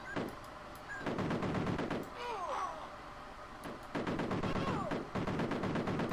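Retro video game gunfire: rapid-fire bursts of synthetic shots in two long volleys, with electronic sweeping effects between them and someone talking over the game audio.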